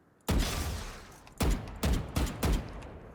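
Four sharp gunshots from the Valorant shooter fire alone in an uneven sequence, each a loud close crack with a short decaying tail, the first followed by a longer gap.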